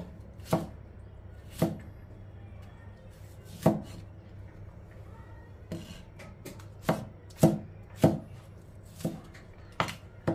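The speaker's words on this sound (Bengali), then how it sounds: "টমেটোটা কেটে নেবো, টমেটো আমি একটাই দেবো।" A knife chops a tomato on a board in about a dozen sharp, irregularly spaced cuts, close and distinct over a quiet background, with no talking.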